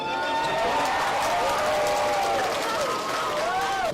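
A crowd at a Patriot League sporting event cheers and yells for a player, a dense, loud, continuous roar of many voices with rising shouts, sustained without a break.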